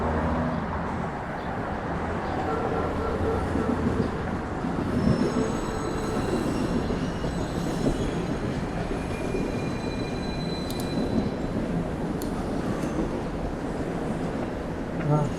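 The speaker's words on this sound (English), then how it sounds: "There's a train tracks to my left. That'll be the subway line." A Toronto subway train rolls past along Yonge Street with a dense, continuous rumble and high metallic wheel squeals streaking over the noise, close and loud throughout.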